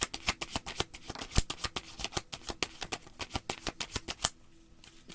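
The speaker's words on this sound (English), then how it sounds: "even my cards are not shuffling really well." Tarot cards being shuffled by hand, a quick run of crisp riffling snaps and flicks in close, uneven bursts with brief pauses, fairly quiet and alone with no voices.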